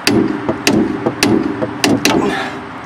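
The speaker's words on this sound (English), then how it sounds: "Just hit it with a hammer." Hammer blows strike a Mercedes W123 ball joint during a ball joint replacement, five or six sharp metallic clanks spaced irregularly about half a second apart, close and loud over a low mechanical background.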